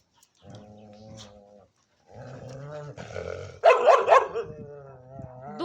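A dog barks and growls inside an enclosure, with bursts of close, harsh barking separated by short pauses and a louder, more agitated stretch near the end.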